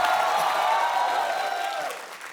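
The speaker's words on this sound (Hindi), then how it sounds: "प्लीज जोरदार तालियों से स्वागत करिए" A studio audience claps loudly to welcome Rishi Kapoor on the Kapil Sharma Show, a full, sustained wash of applause that eases off toward the end.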